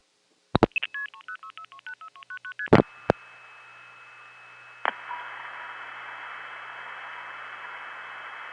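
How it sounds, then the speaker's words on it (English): Rapid telephone multi-frequency dialing tones play as a quick string of short beeps, then a click and a faint steady tone over hiss on the line, with no speech. "That choice to let us hear the MFs created such a beautiful,"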